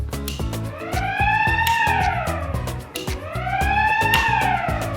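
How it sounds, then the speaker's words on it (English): A loud electronic house security siren wails nearby in a converted 40ft high cube shipping container home, its pitch sweeping up and down in two repeating cycles, with no talking. "We have a siren for this particular house. It's already on."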